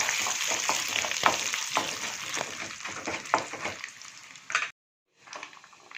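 Chana dal, urad dal and dried red chillies sizzle and crackle steadily in hot oil for an onion chutney, with close stirring scrapes and small pops, then a brief silence before the frying resumes.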